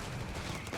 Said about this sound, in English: the artillery's certainly not helping the Doc